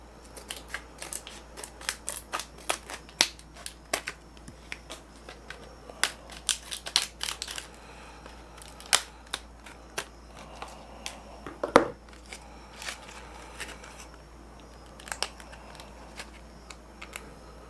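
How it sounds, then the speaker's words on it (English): Scissors snip through plastic packaging in irregular, crisp cuts with crinkling in between, close by and fairly quiet. "I'll get my scissors here and cut into this."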